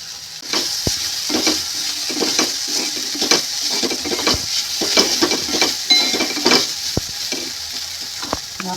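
Green beans, peas and carrots sizzle in a hot pan for a railway-style veg cutlet filling, with a spoon stirring them in steady repeated scrapes over a constant frying hiss. The sound is close and moderately loud, and no one speaks.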